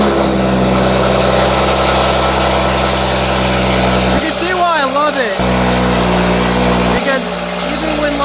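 A loud car engine with a deep, steady rumble that holds continuously, while voices speak over it.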